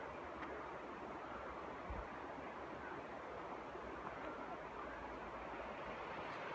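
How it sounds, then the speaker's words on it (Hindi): A second river near Kangra Fort in Himachal Pradesh flowing in the distance, a steady broadband rush of water with no clear breaks, faint and even throughout. "ये दूसरी नदी"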